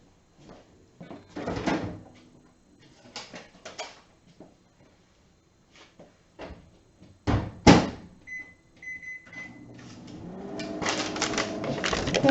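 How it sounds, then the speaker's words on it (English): A home microwave oven heating coffee-dyed paper: scattered clatters and handling knocks, a brief high beep, then a steady rising hum that grows louder near the end. "I'm going to place it over into the microwave."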